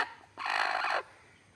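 A brooding hen sitting on a clutch of eggs lets out one short, throaty gobbling call of about half a second, fairly close, in an otherwise quiet setting.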